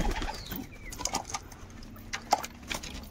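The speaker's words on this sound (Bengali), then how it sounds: "এদিকে সব কবুতর আছে।" Pigeons cooing in a loft, with faint, scattered soft coos and light rustling against a steady background hum.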